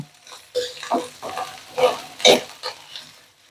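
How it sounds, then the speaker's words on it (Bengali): Crushed ginger and garlic frying in a pan, close scraping stirs in short bursts over a soft sizzle. "আদা রসুনের কাঁচা গন্ধটা চলে যাওয়া পর্যন্ত এটা আমি ভেজে নেব"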